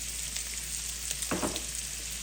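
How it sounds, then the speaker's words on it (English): Carrots fry in a pan with partially cooked sausage, giving a steady close sizzle with a short burst of clatter as the pieces are stirred. "now that our sausage is partially cooked, I'm gonna go ahead and add my carrots"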